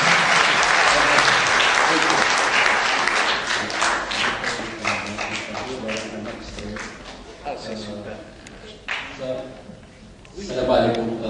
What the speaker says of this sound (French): M. Belabas, on l'applaudit là.